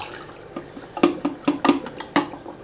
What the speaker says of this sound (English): So all we need to do now is pour it all out.